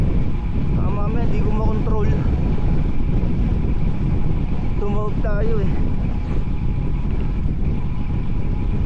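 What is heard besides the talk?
strong wind hitting the cyclist during a ride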